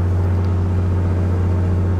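Piston aircraft engine held at 1800 RPM on the ground during a magneto check, a loud continuous droning hum with a strong steady tone, close and unbroken, with no talk.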